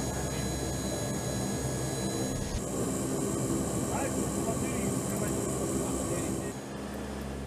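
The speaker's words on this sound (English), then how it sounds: "This four-engine propeller aircraft dates back to 1959" Steady, loud drone of a four-engine propeller aircraft from 1959, a P-3 anti-submarine patrol plane, filling the whole stretch with a continuous engine roar and a slight shift in tone partway through.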